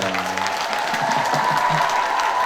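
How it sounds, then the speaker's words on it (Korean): Fans at a trot singer's live concert applaud in a steady, fairly loud patter, with a brief low hum of voices near the start. "여기 또 박수를 쳐주시네요"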